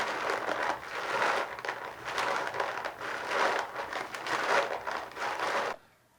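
A foley effect imitating chewing a crunchy biscuit, made as a close, loud run of dry crunching and crumbling bursts in a steady rhythm for several seconds before stopping.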